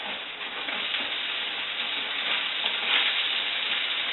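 Garlic cooks in a pan with a constant, dense sizzle that stays even throughout, close and moderately loud, with faint stirring movement and no voices.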